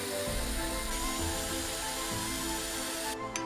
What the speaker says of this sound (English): we had to drill through them with a drill.